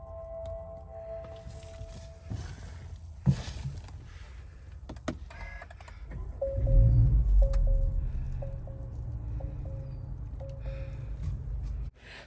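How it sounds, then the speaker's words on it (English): A 2024 Acura Integra Type S starts up in a few mechanical clicks, then a low exhaust rumble swells and settles into a steady, subdued idle with a faint repeating chime over it. "Such modesty from that exhaust note."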